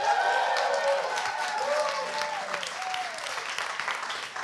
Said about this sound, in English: Just then was his first ever round of applause